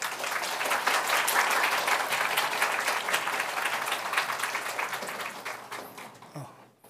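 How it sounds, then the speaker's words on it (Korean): A church congregation applauds during a Sunday service, welcoming the pastor to the pulpit; steady, dense clapping from a full room that fades out near the end. "우리 목사님을 격려하는 의미로 큰 박수로 맞이하도록 하겠습니다."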